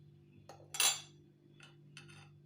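A spoon clinks against a glass while dry yeast and sugar are added for a small Ramadan bread dough, giving a few short, bright metallic taps, the loudest near the start, over a steady low hum.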